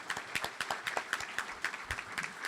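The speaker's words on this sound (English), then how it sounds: "Let's give Michael a round of applause." A small audience applauding a Rotary Club speaker, a brief burst of sharp hand claps at moderate distance, steady and even with no voices over it.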